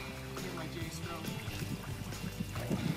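A kayak paddle working through the water with forward J strokes makes soft, close swishes and splashes in an uneven rhythm, with low murmurs of background noise.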